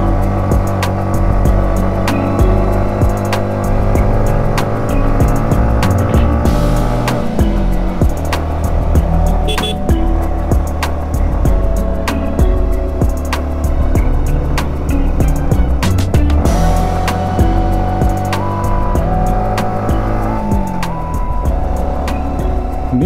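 A motorcycle engine labors uphill in second gear on a steep, foggy mountain road near Bandarban, a loud, continuous close drone with shifting pitch that rises and falls through the whole ride.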